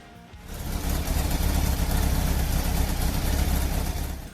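A Kawasaki Ninja ZX-12R motorcycle with a liquid-cooled 1,199 cc engine runs with a steady, loud, rumbling drone that swells in after a brief quiet start and holds evenly before easing slightly.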